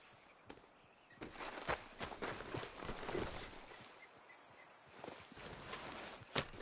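Horse hooves clip-clopping at a walk in Red Dead Redemption II, a steady series of distinct hoof steps on ground, moderately close, with light rustling and no talking.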